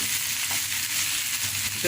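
Chopped onions frying in a pan give a steady, close crackling sizzle that holds level throughout, with no talking over it.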